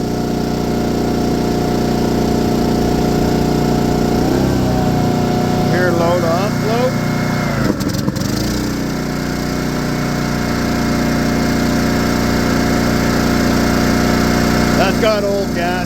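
A Honda GX-powered Kodiak SGA2800HX generator engine runs with a steady, loud drone, its pitch shifting briefly a few times while the motor keeps running throughout.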